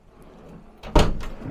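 A drawer in a hotel room vanity slides and knocks shut in one quick, fairly loud wooden thud with a short scrape, following a few quiet moments of room tone.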